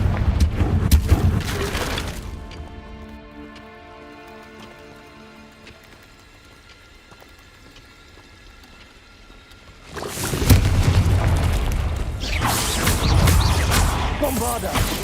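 Spell blasts in a video game erupt as heavy, crackling explosions: one loud burst at the start, a long quieter ringing stretch, then a second sustained roaring blast.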